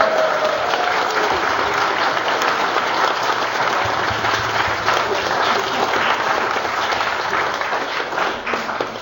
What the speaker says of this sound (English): So can we give those people a round of applause?